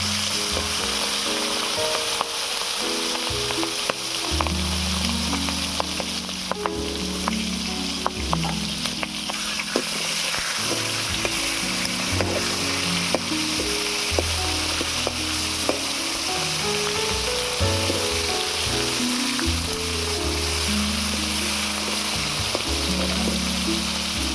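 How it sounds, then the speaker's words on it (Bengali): Bhetki fish heads fry in hot mustard oil with a loud, steady sizzle that crackles continuously throughout, backed by low musical tones. "এবারে মাছের মাথাগুলো ভেজে নেবো"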